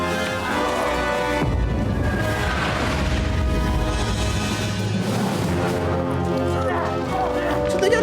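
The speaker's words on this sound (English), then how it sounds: "So they got a cannon?" Cannon fire during a siege battle in Kingdom Come: Deliverance II, booming low and heavy amid dense battle noise and music, with a voice talking over the din.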